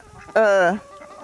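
A single close hen gives one loud, drawn-out cluck-squawk lasting under half a second amid quiet farmyard background.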